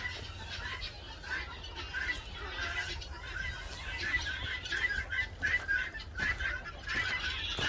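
Chickens cluck in a farm setting, a flock of hens giving repeated short clucks and calls at moderate distance over low background hum, growing busier toward the end, with a faint voice in the background.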